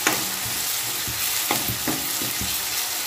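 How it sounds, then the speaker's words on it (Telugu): Ginger-garlic paste frying in hot oil for chicken sukka, a continuous close sizzle with repeated scraping stirs of a spoon against the pan, no talk. "ఒక 2 మినిట్స్ ఫ్రై చేస్తాం."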